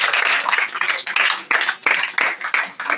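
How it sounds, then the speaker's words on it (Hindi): Group of villagers clapping for everyone at a Shivir program in Banmalipur Sarak village, Odisha, a dense burst of applause with irregular individual claps, loud and close, sustained for several seconds. "तालियां हो जाए सबके लिए।"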